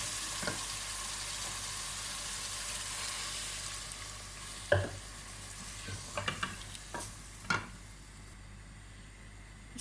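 Beef trotters (paya) frying with spice masala in a pot, a soft constant sizzle with a few sharp clicks of a utensil stirring and scraping, faint and close.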